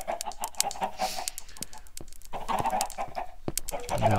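Homestead chickens clucking close by in a busy flurry, with rapid clucks and agitated squawks over rustling and movement.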